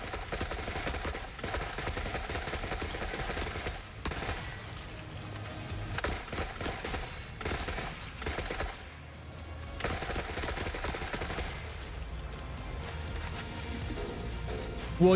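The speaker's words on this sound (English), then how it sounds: "It's time for RPK." An RPK machine gun fires in the shooter game The Forever Winter: loud, sustained automatic bursts ripple almost continuously, broken by a few brief pauses, dense and close with no voices.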